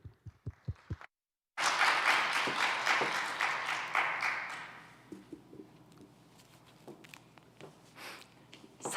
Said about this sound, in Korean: 가정에서 큰 박수로 환영 부탁드리겠습니다.